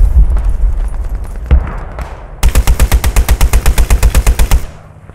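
Loud automatic gunfire in the WWII shooter Squad 44: scattered single shots first, then a long, fast, rhythmic machine-gun burst, close and harsh, with no talk.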